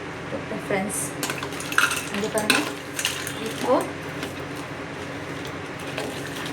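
Maggi noodles tossed with their masala seasoning in a pan, giving close, irregular utensil scrapes and clinks with a faint sizzle underneath and no talking.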